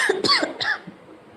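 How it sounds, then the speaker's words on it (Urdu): A woman coughs in a few quick, close, harsh bursts, then goes quiet. "کھانسی ویسی ہی آ جاتی ہے"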